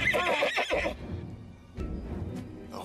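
A horse neighs loudly and close by in a shaky, descending whinny, followed by quieter shuffling and a few faint knocks like hooves.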